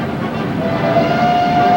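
A passing train from a 1992 TV commercial rumbles loud and steady, and its horn sounds a sustained single note over the roar.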